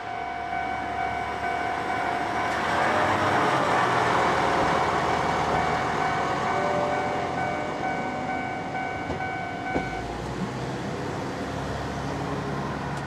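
A train on Japan's shortest railway rolls past nearby, a steady loud rumble of wheels on rails with a sustained horn-like tone, holding strong then easing off as it moves away; no one speaks.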